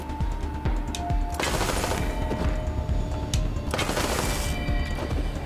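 Assault rifle fire in the video game Wasteland 3, dense rattling bursts of rapid shots with heavy booming impacts, loud and continuous over a rumbling battle backdrop.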